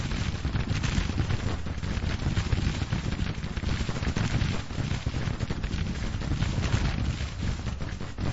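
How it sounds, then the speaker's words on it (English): Artillery bombarding a Confederate battery in the Grand Tactician Civil War strategy game comes through as a continuous dense rumble of massed gunfire and distant booms, steady and loud throughout. "Why don't we try to bombard the Confederate battery?"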